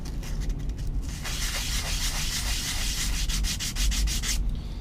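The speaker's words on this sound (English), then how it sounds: "when we're sanding these along the sides here, best not to angle or bevel or round the edges" Sandpaper rubs rhythmically against the edges of aircraft wing wood in quick back-and-forth strokes, a steady gritty scraping close up with no talking.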